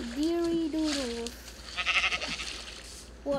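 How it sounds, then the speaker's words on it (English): Sheep in a survival video game give a wavering bleat at the start, followed by softer splashy game noises, with a player's voice talking over parts of it. "Let's kill the sheep."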